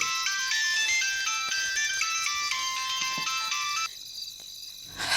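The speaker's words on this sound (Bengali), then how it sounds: "তোমার ফোন বাজছে।" A mobile phone ringtone plays a bright, stepping electronic melody at home. It rings steadily and close by for several seconds, then drops to a softer tone near the end, with no voices over it.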